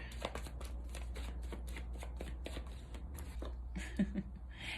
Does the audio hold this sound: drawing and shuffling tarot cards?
yes